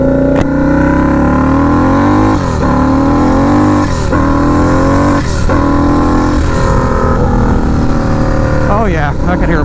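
A Harley-Davidson Sportster Nightster motorcycle engine revs loud and close, rising and falling in several repeated throttle blips over a steady rumbling idle.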